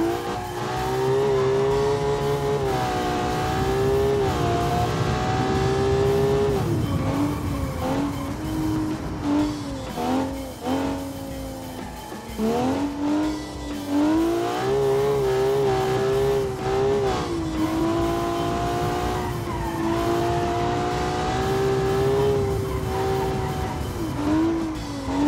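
A track car driven in the BeamNG video game, its engine revving loud and continuous for the whole stretch, pitch rising and falling through gear changes, with bursts of tire squeal and skidding.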